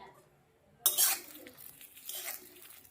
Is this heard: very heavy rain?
no